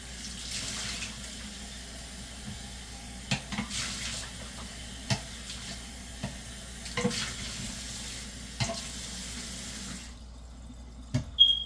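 Tap water runs steadily into a container being rinsed at a kitchen sink, with a few close clinks and sloshes scattered through it, before the flow cuts off near the end.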